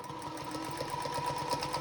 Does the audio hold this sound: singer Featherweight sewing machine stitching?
yes